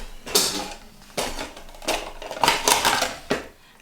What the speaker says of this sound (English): What's the matter with these scissors?